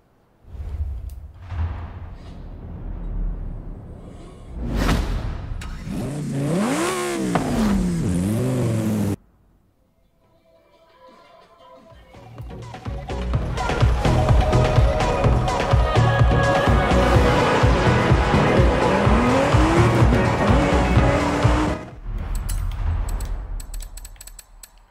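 A Lamborghini's engine in the racing game Forza Horizon 5 revs up and down in rising and falling sweeps, cuts out briefly, then builds to a sustained loud, close roar before fading near the end.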